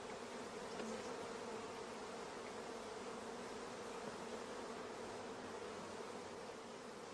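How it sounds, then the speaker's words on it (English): Queenless orphan bees in a starter colony buzz loudly and continuously, a dense steady hum with no pauses and no voices. "we can hear the loud buzzing of the orphan bees"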